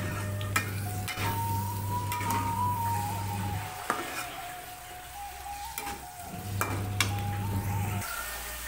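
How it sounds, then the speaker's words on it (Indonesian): Green chilies fry in a pan over low heat, giving a steady soft sizzle broken by a few sharp clicks and stirring knocks, close up with no talking. "pastikan apinya api kecil ya untuk menggoreng cabai biar matangnya sempurna"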